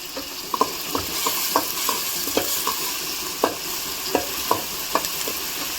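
Onion and tomato masala fries in a little oil with a constant close sizzle, broken by regular spoon scrapes and taps against the pan, roughly one or two per second. No talking.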